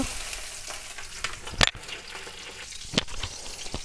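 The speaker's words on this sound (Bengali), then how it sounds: "এবার আমরা কয়েক টুকটা কাঁচা জল দিয়ে দেব" Raw water splashes into a hot pan of dudhman taro and onions, setting off a steady sizzle and frying hiss, with sharper crackles and spatters and occasional stirring scrapes, close and moderately loud.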